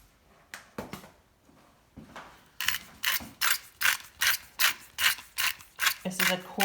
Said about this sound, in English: This is a coarse grind sea salt.